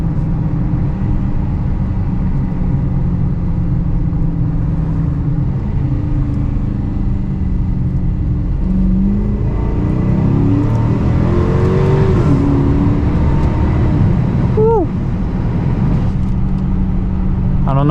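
A Dodge Challenger R/T engine revs hard while pulling through snow, the steady loud drone rising in pitch and breaking at gear shifts with a brief pop, then climbing again, with no talk over it.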